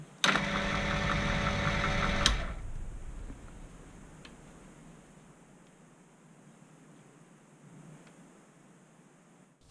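A Proxxon PD 250/e lathe cuts an external thread, taking a final pass at the same tool position: a loud, steady motor drone with a whining tone runs for about two seconds, then cuts off, leaving a quiet hiss with faint ticks.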